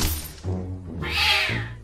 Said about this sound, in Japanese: 猫が現れたよ。